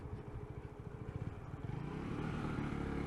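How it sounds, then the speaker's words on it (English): A ZSB motorcycle engine with a low-RPM fault idles with a close, rapid low putter, then climbs into a steadier, louder drone as it is revved toward about 4,000 RPM, with no talking. "So I'm revving it higher."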